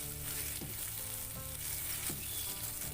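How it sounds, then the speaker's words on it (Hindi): Sliced onions fry in a tablespoon of oil for an egg and potato curry. A quiet, continuous sizzle hisses steadily, broken by a few soft spoon stirs, with no talking. "1 टेबल स्पून तेल डाल के इसमें अब ये प्याज को फ्राई करूँगी"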